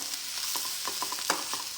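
Bitter gourd sautéing in a pan for a theeyal curry, a soft steady sizzle with repeated scraping stir strokes at an even rhythm, close and fairly quiet.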